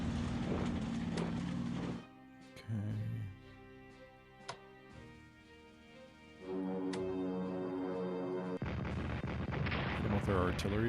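Artillery shells boom in the strategy game Strategic Command WWII, with loud heavy blasts at the beginning and end and a softer interval of lighter game effects in between.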